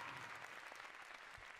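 Studio audience applauding on a televised masked singing competition, a steady dense wash of clapping that holds evenly throughout without a break.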